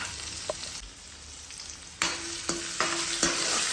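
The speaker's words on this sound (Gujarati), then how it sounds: "હવે આપણે કરશું હિંગ એડ અને ત્યારબાદ આપણે લીમડો અને ડુંગળી નાખી દઈશું." Hing, curry leaves and onion dropped into hot oil, a steady loud frying hiss that jumps sharply louder as each addition hits the pan, with crackling pops layered on top.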